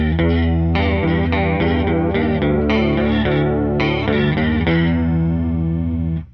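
A Fender Jazzmaster through chorus and light distortion plays a riff, a loud, close, repeating single-note line with shimmering wobble, rhythmic and unaccompanied, ending abruptly.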